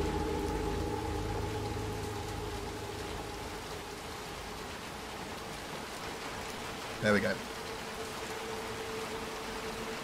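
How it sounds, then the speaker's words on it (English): Heavy rain falls in Little Nightmares 2 as a steady, broad hiss that holds through the whole stretch with a low drone beneath, and a brief spoken remark cuts in near the end. "Man, it's raining hard, dude."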